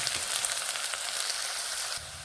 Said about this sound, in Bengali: পেঁয়াজগুলোকে এইভাবে নেড়ে কয়েক সেকেন্ড একটু লাল করে ভেজে নেব